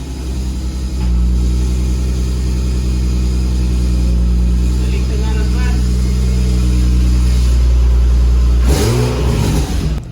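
Nissan 350Z with Z1 test pipes and a Z1 Y-pipe, engine droning loudly at close range with a steady low rumble that cuts off sharply near the end, voices speaking over it.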